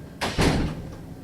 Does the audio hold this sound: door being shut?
yes